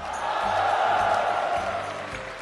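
Live crowd at a Hearthstone Gold League esports finals event in Beijing cheers and applauds together, a dense, steady roar of clapping and voices lasting the whole stretch.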